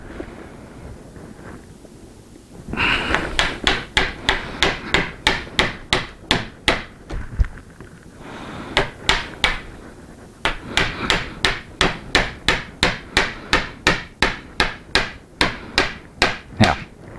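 Chisel struck with a mallet, cleaning out a joint in timber: steady rhythmic knocks in two long runs with a brief pause between, close and loud, no voices.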